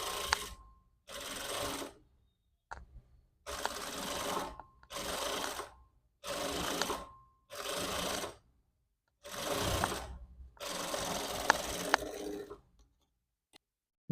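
A sewing machine stitches blouse lining in about nine short, close bursts separated by silent pauses, with no talking over it.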